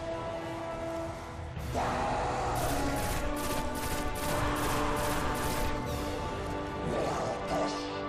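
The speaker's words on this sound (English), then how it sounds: "I've got 8 heavy machine gun rounds." Heavy machine gun fire in the video game Destiny: The Taken King, dense rapid bursts and crashing impacts over a steady game soundtrack, loud and continuous with no talking.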